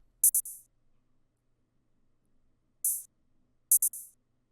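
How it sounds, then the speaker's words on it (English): Short bright hi-hat hits in small bursts, each a quick open sizzle that decays fast, separated by near silence. "we are adding another open hat that sounds like this."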